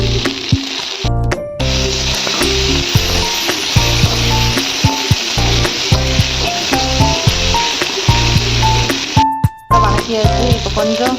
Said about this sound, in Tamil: வெங்காயம் கொஞ்சம் வணக்கிக்கலாம்.